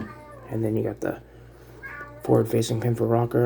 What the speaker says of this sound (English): that's my cat complaining again